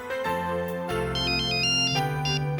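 A phone ringtone plays a bright electronic melody, loud and close, with repeating chiming notes and no voices.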